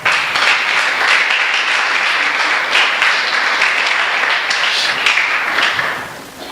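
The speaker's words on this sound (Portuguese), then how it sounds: "Dê uma linda salva de palmas." A church congregation breaks into dense, continuous applause, loud and sustained for several seconds before starting to fade.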